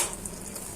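Boiled water lily stems and small shrimp fry in a pan, a soft, steady crackling sizzle heard close and quiet, briefly and alone.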